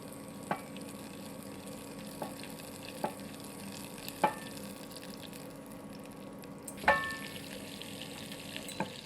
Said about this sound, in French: Donc vous commencez par faire fondre votre beurre.